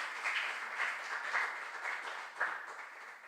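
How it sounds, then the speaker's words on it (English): Audience at a regional junior science and maths quiz applauds the school contestants, a steady ripple of many hands clapping at moderate loudness that slowly tapers off, with no speech over it. "Let's clap for our contestants."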